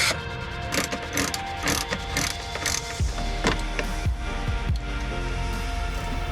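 Ratchet clicking in short bursts as it turns out a T25 Torx screw holding the fuel filter clip holder on a B6 Audi A4, close and alone, with a few sharper knocks near the end.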